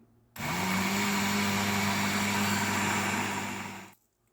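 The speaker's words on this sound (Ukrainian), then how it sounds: "додала цукор і буду збивати блендером." A loud, steady motor whine starts abruptly, runs for about three and a half seconds at constant pitch, then cuts off: a blender whipping a cooked poppy seed filling with sugar.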